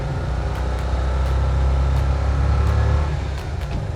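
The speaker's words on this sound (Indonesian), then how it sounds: "Kita coba kenceng ya. Coba ya Pak De ya." A Mazda B600 small light pickup truck accelerates hard, its engine a loud, steady, close-up drone that swells slightly in the middle with no talk over it.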